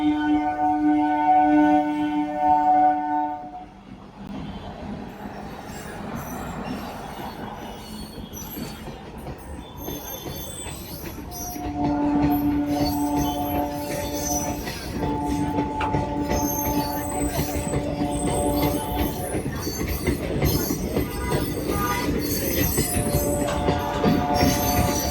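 A train rolls past a railway crossing near Bapudham Motihari station, a loud, continuous rumble with squealing wheels and ringing tonal tones that drop away briefly, then return and fill the rest of the clip.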